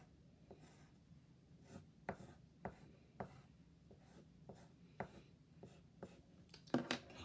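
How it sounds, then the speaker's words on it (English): A pencil draws lines on paper, giving soft, quiet scratchy strokes in an irregular rhythm of short bursts, close and alone. "Now draw lines with a pencil coming off of it."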